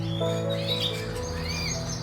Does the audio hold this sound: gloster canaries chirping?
yes